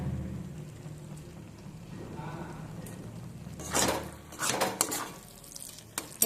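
A spoon stirs and scrapes an egg tarka with spices in a frying pan, with a quiet sizzle underneath and a few louder clattering bursts of stirring toward the end.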